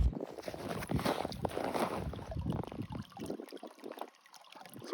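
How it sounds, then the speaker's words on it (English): Water running and splashing into a livestock watering trough outdoors in winter, a continuous gurgling flow that eases off toward the end. "right now the trough is starting to get full"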